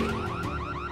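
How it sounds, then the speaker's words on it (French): A bank alarm rings in a French cartoon, a loud, steady warbling electronic tone that rises and falls in quick repeating cycles. "On dirait que c'est une alarme de la banque."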